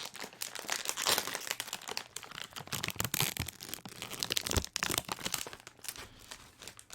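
Crinkly plastic snack wrapper being handled and pulled open, continuous rustling and crackling with a few sharper crunches, close to the listener.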